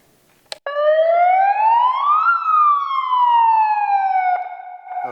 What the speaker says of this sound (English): We first have an electronic megaphone that has a siren.